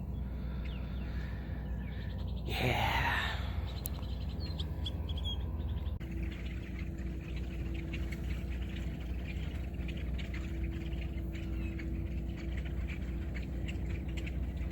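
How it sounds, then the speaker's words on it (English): Birds chirp and twitter steadily through a morning sunrise, a dense chorus of calls over a constant outdoor hum, with one brief loud rushing burst early on and a single short spoken word. "Birds are just flying around and chirping."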